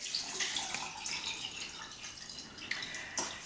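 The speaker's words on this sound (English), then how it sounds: "Then with some hot boiling water, like you're making a tea, I'm going to pour it in." Hot boiling water poured into a cup of herbal leaves for a spiritual bath, a steady close splashing and trickling stream with small drips, no talking.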